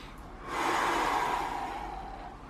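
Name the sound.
deep breathing during foam rolling exercise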